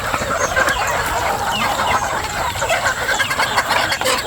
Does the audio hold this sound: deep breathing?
no